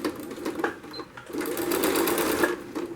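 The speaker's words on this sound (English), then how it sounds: "Sew down the other side." Sewing machine stitching down the side of a fabric headboard slipcover, a steady close whirring run that starts and stops in short bursts before settling into a continuous buzz, with no talking.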